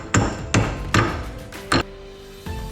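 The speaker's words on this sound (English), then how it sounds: "And then hammer it the rest of the way" Hammer blows drive a brake caliper pin through the bracket on a four-piston Powerstop Z26 Street Warrior brake install on a Dodge Charger/Challenger: four sharp metallic strikes spaced unevenly, the last one pausing before it, then a softer tap.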